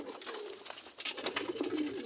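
Pigeons in a pigeon house cooing nearby, soft repeated throaty coos overlapping in an irregular rhythm with light rustling, close and fairly clear.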